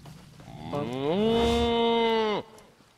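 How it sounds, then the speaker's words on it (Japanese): A cow in The Elder Scrolls Online's High Isle lets out a single drawn-out moo, loud and close, rising in pitch and then holding steady for over a second before cutting off sharply. "あ、メス牛か。"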